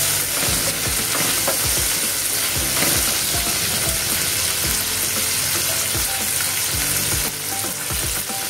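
Green chillies sauté on low heat in a pan for a mild village-style chilli thecha, giving a loud, steady sizzle broken by frequent crackling pops and stirring clicks.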